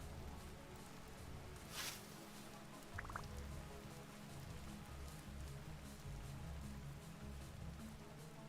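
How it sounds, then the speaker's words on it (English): Steady rainfall in the Vintage Story survival game, a constant soft patter across the whole stretch with a couple of brief clicks from game activity, no talk. "sometimes I like hearing the rain and stuff."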